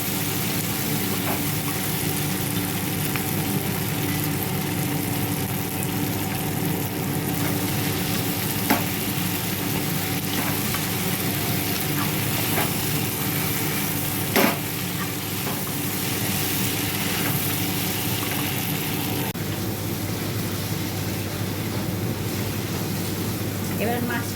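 Cabbage stir-fried with spices in a pan: a constant close sizzle with occasional scraping and clacking stirs, with a voice apparently talking faintly over it.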